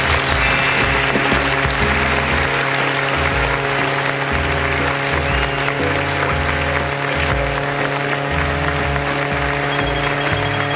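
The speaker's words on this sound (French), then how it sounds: "Applaudissements général." Applause sound effect in a Car Parking Multiplayer taxi-driving game, a continuous dense clapping texture layered over a steady game drone and a low repeating engine-like pulse, lasting the full length.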